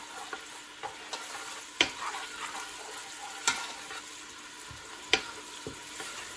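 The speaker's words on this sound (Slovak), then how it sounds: "Cibuľu som nechal orestovať do sklovita." Finely chopped onion sautéing in hot oil until translucent, a soft continuous sizzle broken by a few sharp clacks of stirring, fairly quiet with no voices.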